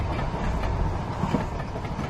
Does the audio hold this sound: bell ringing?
no